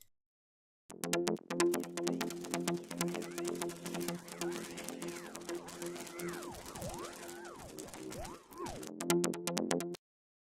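A synthesized musical loop processed through the Freakshow Industries Pocket Dimension plugin with automated mix, sweeping filter effects rising and falling over a steady rhythmic pattern, ending abruptly.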